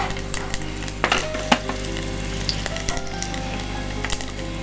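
Cumin seeds sizzle in hot oil for a tempering: a close, steady frying hiss broken by irregular crackles, pops and light utensil clicks, with no one talking.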